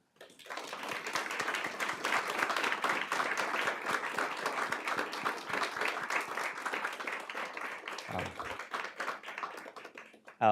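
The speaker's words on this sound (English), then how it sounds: "so we can give them a round of applause" A school board meeting audience applauds the district's senior athletes and their team, a dense, steady crowd clapping that fills the room for about eight seconds and then tapers off, with a voice starting up at the end.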